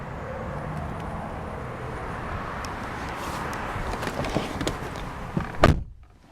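A heavy rear door on a 2001 BMW 740i swings shut with a single solid, loud thunk near the end, following several seconds of low, steady background rumble.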